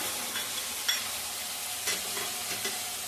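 Onion, ginger and garlic fry in a pan with a soft, even sizzle and a few brief stirring clinks, close and faint, with no voices.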